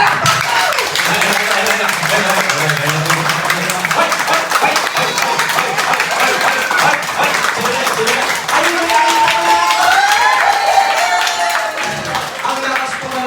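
Crowd of family and friends clapping hard at a christening celebration in Manaoag, a loud continuous roar of applause with cheering voices mixed in, sustained throughout.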